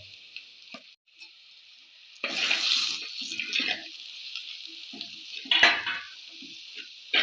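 Onions fry in a pan while masala is stirred in. A steady bright sizzle swells and fades, with scraping spoon strokes and occasional clinks close up.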